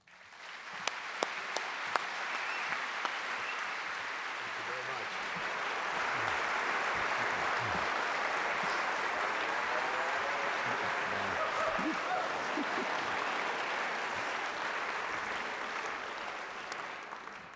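An audience bursts into sustained applause welcoming speaker John Nichols at a public talk in Tucson, steady and full for many seconds after a few early claps, then tapering slightly at the end.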